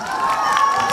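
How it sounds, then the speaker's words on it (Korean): A packed outdoor crowd at the Yangchon dried persimmon festival trot concert cheers and shouts for volunteer firefighters, a loud, sustained wash of voices with only faint clapping. "선생님한테 박수 한번 주세요"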